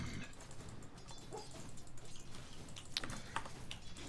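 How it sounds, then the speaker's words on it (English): A dog whimpers and yips softly in its sleep while dreaming, faint scattered squeaks and muffled little barks over a quiet background. "Got a dreaming dog."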